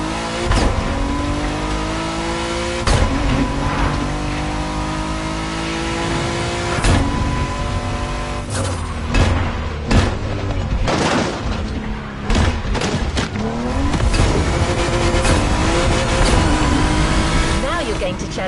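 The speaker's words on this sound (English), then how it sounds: "challenge yourself even more in the time attack with a maxi buggy, the Peugeot 3008 PKR" A Peugeot 3008 maxi buggy in the racing game The Crew Motorfest roars loudly and continuously, its engine revving up and down with sharp gear-shift and impact spikes throughout, filling the whole stretch.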